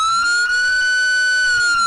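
Police siren wail from the game GTA IV, a loud steady tone sweeping up and holding high before gliding back down over about two seconds, heard alone.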